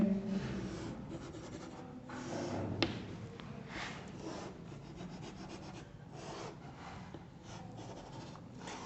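Scratchy rubbing strokes of a pen or marker drawing a Wheatstone bridge circuit diagram on a board, soft and steady with a few sharper taps, over a faint background hiss.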